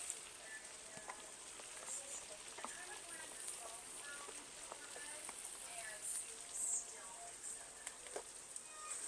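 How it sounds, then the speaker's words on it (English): Mushrooms sizzle softly in melted butter in a pan while being stirred, a faint continuous crackle with scattered small pops and scrapes, and a voice speaks briefly over it. "I'm going to stir up my mushrooms right on in here. I might need a little more butter."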